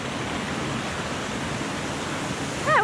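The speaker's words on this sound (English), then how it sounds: "We can see the waterfall now." Waterfall in a lush, humid Roatan forest, heard as a steady broadband rush of falling water that is moderately loud and continuous, with a brief whistle-like sound near the end.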